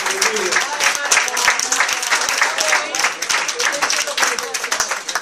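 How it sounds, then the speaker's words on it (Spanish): A group claps in sustained applause at a municipal political party assembly, dense and lively, with a few voices mixed in underneath. "un aplauso a todos los compañeros"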